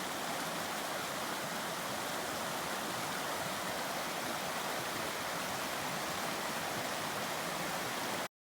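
River Mira flowing past an old mill, a steady broadband rush of moving water that holds constant and fairly close throughout, with no voices.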